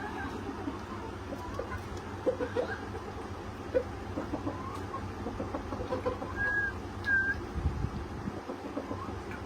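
Tiger chickens on a poultry farm being sprayed with disinfectant, giving scattered soft clucks and brief calls over a steady low background hum, fairly faint throughout.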